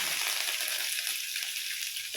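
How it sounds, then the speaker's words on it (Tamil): Mustard seeds and curry leaves sizzle steadily in hot oil during an egg fry, a dense, continuous crackling hiss with faint popping throughout, close and alone. "கடுகு பொரிஞ்சிச்சு. கருவேப்பிலை போட்டுக்குங்க."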